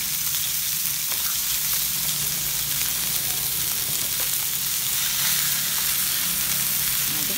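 Round scad fish pieces fry briefly in a pan, giving a steady, close hiss of sizzling oil with faint crackles, continuous throughout and no voices.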